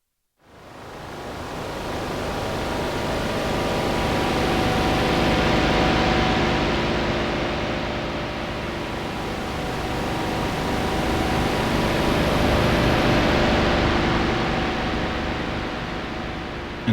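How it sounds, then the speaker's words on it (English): A KORG opsix synthesizer patch run through a tape echo effect gives a dense, noisy, washing sustain that swells and ebbs over about sixteen seconds, loud and steady with faint tonal lines underneath and no talking. "tape echo."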